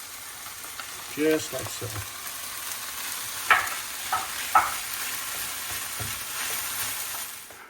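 Spinach sizzles in a pan along with eggplant and onion, a steady soft frying hiss with a few light stirring clatters, while a voice speaks briefly over it.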